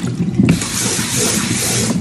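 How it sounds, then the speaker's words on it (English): Water pouring and draining out of a pot of collard greens, a steady close splashing gush with a brief louder slosh near the start, no talk. "you want to drain this water out"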